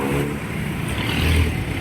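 A motorcycle engine that two mechanics have already worked on, with a rattle that shows when cold and fades once warm. It runs steadily and close with a rough, continuous idle.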